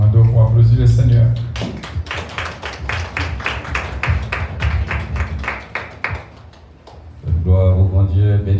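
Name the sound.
congregation applauding in church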